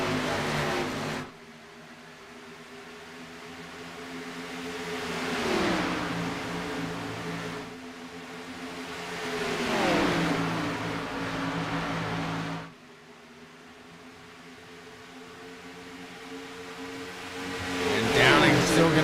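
Pavement Cup Series race cars on a Texas track roaring past at a restart, several engine passes swelling and fading from mid-distance, with a commentator talking over them.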